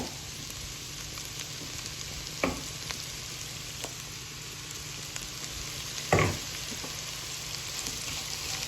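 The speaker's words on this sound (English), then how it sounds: "Then we're just going to add the onions and the leeks and soften those." Onions and leeks soften in olive oil in a pan for a wild venison casserole. A steady, even hiss of frying carries on throughout, broken by two brief utensil knocks and a few faint taps, with nobody speaking.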